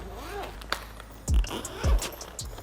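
Zipper pulled open on the second compartment of a G and B Pro backpack, two quick rasping bursts close to the mic, with faint talking just before.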